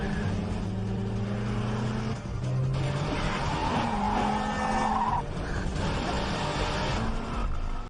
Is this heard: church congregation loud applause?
no